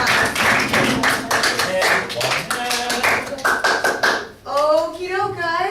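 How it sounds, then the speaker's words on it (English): A classroom of students claps for a classmate after a maths worksheet answer, a burst of close, loud, rapid clapping lasting several seconds, followed by a voice speaking. "Give me a round of applause."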